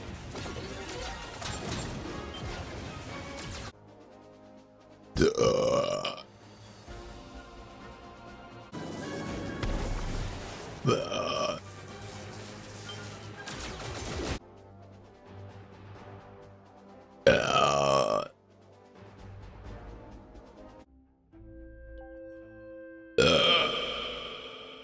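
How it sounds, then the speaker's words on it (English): A goblin character lets out loud, drawn-out burps in bursts over video-game music and sound effects, several separate belches spread through the stretch. "Yep, nobody burps like me."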